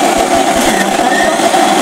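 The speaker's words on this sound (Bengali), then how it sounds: "তো আমি এবারে ডালটাকে বেটে নিচ্ছি" Mixer grinder grinding soaked lentils into paste, a loud steady motorized whir with a buzzing, slightly rattling texture, close and continuous throughout.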